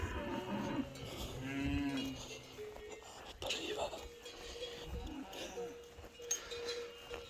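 Cattle lowing beside a stream, one drawn-out moo near the start followed by fainter calls from the herd, with light bell clinks and people talking over the scene.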